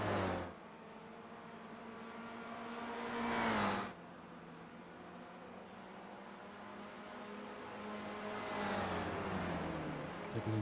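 Race cars in an esports racing video game roar with sustained engine drone, rising revs and whooshing passes at intervals, loud and continuous with no talking.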